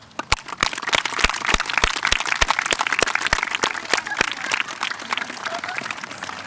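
An audience at an eighth-grade moving-up ceremony applauds, many hands clapping together with a few sharper, steady claps standing out, fairly close and lively throughout.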